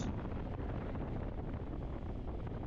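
Steady, loud rushing wind roars over a rider's helmet on a Yamaha Ténéré 700 Rally motorcycle with an aftermarket windscreen at road speed. The roar is continuous and broadband, with no voices.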